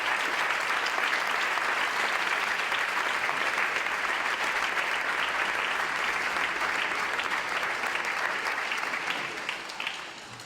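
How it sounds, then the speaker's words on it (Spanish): Sustained applause from a concert audience at a folk music schools' gathering, a dense, steady wash of many hands clapping at close range that fades slightly near the end. "quiero un aplauso también para él"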